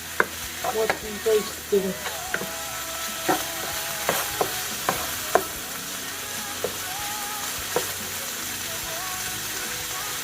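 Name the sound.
butter sizzling while frying in a pan for shrimp spaghetti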